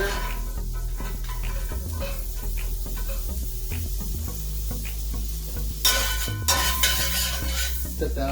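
Butter sizzling in a hot, lightly smoking cast iron skillet, a steady close hiss throughout that flares brighter and louder near the end, with faint utensil scrapes and no talking.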